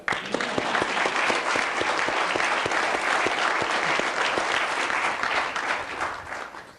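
Audience applause in a museum interview hall, a loud, dense burst of many hands clapping that holds steady throughout and tapers off slightly at the very end, with no talk.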